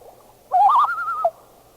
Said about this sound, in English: the type 3 tremolo goes a step higher.